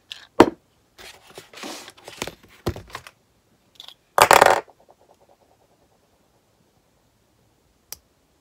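Scattered sharp snips and clicks of scissors cutting into a small plastic capsule of hair serum, including one louder crunchy cut, then near silence and a final tiny click.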